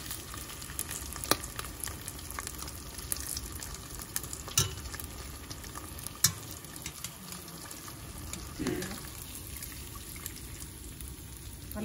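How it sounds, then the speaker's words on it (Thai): Wontons deep-frying in hot oil in a narrow pot, a steady crackling sizzle with scattered sharp pops and bubbling, close and continuous throughout. "ทอดนานไม่ได้นะเพื่อนเดี๋ยวเราไหม ้เราลงแค่เขาเป็นสีน้ำตาลเราก็เอาขึ้นเลย"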